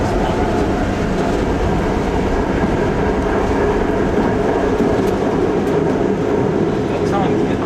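Ultravan #299 on its first drive, with a steady, loud rumbling mechanical noise that could hold a grinding sound running throughout, with people talking faintly under it.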